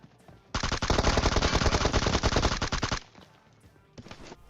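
Rapid automatic gunfire from a PUBG Mobile battle royale match, a dense sustained burst of shots lasting about two and a half seconds, followed by a brief second volley after a short pause.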